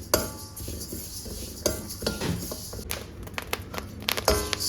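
Urad dal and wheat grains dry-roasting in a pan, with scattered close clicks, light scraping and stirring taps over a soft steady crackle, no voices.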